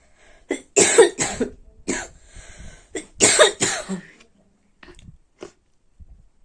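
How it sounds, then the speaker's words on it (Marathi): Several harsh coughs come in two bursts of close, loud hacking, followed by softer throat sounds and quiet breathing. "मला खोकला यायला लागला आता इकडं"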